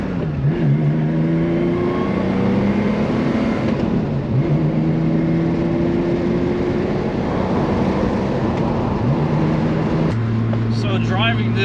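A 1978 Porsche 911 SC accelerating hard: engine revs climb in repeated rising sweeps as it runs up through the gears, loud and close from inside the car, then settles to a steady drone near the end.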